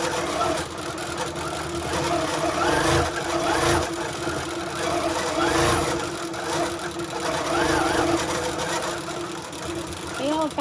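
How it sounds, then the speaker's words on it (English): A sewing machine stitches a log cabin quilt with a fast, close mechanical whir that pulses slightly in speed, while someone talks over it throughout. "Drop your needle again, because that's the way the machine starts."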